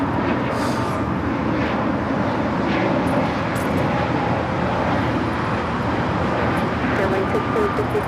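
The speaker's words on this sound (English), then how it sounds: "This is Spirit Airlines, excuse me, 1663 taking off to Detroit on the A320neo." A Spirit Airlines A320neo departs LAX for Detroit, with a steady, fairly loud engine roar holding throughout under faint background voices and outdoor noise.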